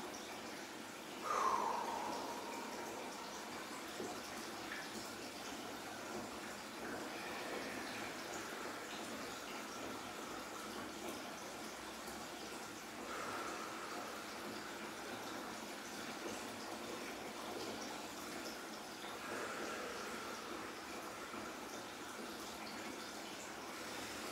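Tap water runs steadily into an ice bath tub, a faint, continuous gush that stays even from start to finish with no voices.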